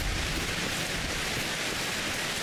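Steady rain in Farming Simulator 25, a dense continuous hiss of falling water that stays even and moderately loud throughout, with no talk.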